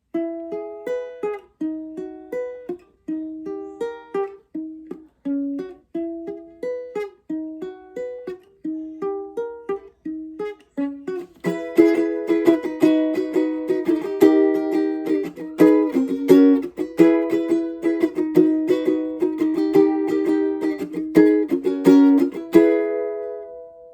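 Ukulele playing the intro of a song twice in clear plucked notes, then fuller strummed chorus chords repeated, close and unaccompanied.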